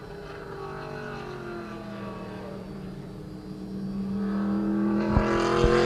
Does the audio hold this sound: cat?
no